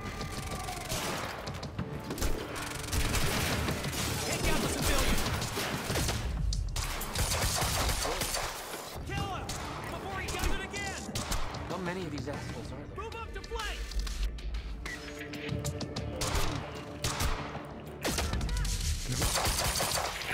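Gunfire in the video game Quantum Break, bursts of shots and crashes running almost continuously and loud over dense game music and effects, with a player talking over it.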